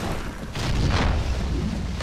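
A grenade explodes in a shooter video game, a loud, heavy boom with a deep low rumble that swells and holds for about a second before tailing off, close and without voices.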